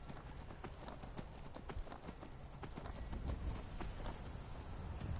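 A horse's hooves clip-clop in a rapid, steady rhythm as it is ridden in the video game Skyrim. The hoofbeats are close and continuous, with a faint whinny-like sound in the mix.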